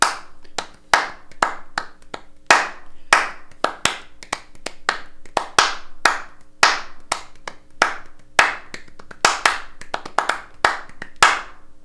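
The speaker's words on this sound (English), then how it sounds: "Okay, so now clap it." Sharp hand claps tapping out a swung jazz rhythm, loud and close, in an even repeating pattern of single and paired hits with no talking.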